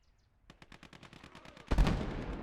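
A 37 mm gun fires in the Gates of Hell war game: a rapid rhythmic string of about a dozen sharp shots, then a louder blast and lingering rumble, all close.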